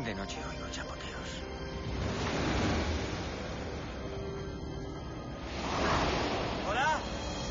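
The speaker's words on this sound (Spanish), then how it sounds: "De noche oigo chapoteos." Water splashes at night in a low, rushing wash that swells into two louder surges, like waves slapping and sloshing, heard alone and at moderate distance.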